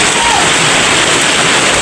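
Heavy rain pours onto a tarp at a construction site, a loud, dense, unbroken hiss filling the whole moment.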